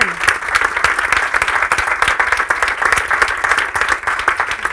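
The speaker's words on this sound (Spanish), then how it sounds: "pues un aplauso para ello" Audience applause at a hospitality summit in Spain, a loud, dense and steady burst of many hands clapping throughout, with no voices over it.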